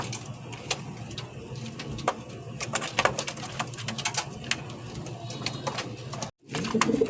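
King pigeons coo from close by in repeated soft throbbing calls, with wing flutters and small scuffles among them. A short silent gap comes near the end.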